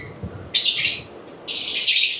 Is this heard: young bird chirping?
yes